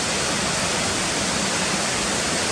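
Cotter Force waterfall and stream roaring in a dense, steady rush of falling and flowing water, loud and continuous with no other sounds.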